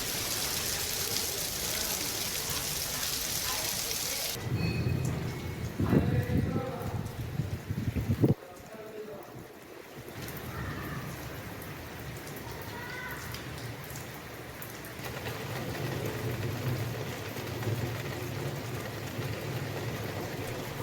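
Rain falling during stormy weather in Bihar, captured in outdoor news footage, a steady hiss of drops with wind buffeting the microphone and a few louder low-pitched bursts partway through.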